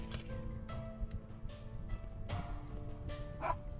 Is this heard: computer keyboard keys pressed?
no